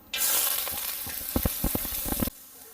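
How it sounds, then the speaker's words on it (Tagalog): Onions drop into hot oil in a pan and sizzle loudly at once, a steady close hiss with brief crackles, ending abruptly after about two seconds. "Sa isang kawali, nagpainit na tayo ng mantika. Lagay natin yung ating sibuyas,"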